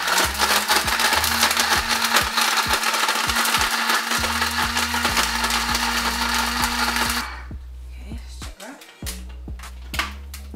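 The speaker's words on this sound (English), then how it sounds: "Then, we're gonna put in the blender to make breadcrumbs to go into our mixture." A blender grinds toasted bread into breadcrumbs for homemade bean burgers, a loud steady whirring drone with rattling chops for about seven seconds before cutting off to quieter handling noises.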